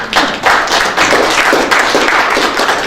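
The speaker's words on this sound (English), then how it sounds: "I want to give you a big round of applause for the new construction on the third floor" An audience at a chamber luncheon during a mayor's State of the Island address gives a sustained round of applause for new construction, dense steady clapping filling the whole stretch with no pauses.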